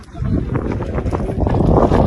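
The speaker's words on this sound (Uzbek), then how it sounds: "Shamolni qaranglar." Mountain wind gusts and rumbles close to the microphone, a rough, uneven buffeting roar that swells louder toward the end.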